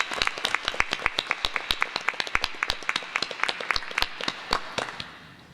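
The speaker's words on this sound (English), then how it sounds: "Let's give them a round of applause." A small audience at a Waterbury Board of Education meeting claps for students, the individual hand claps distinct and fairly close in a quick uneven patter that thins out and fades near the end.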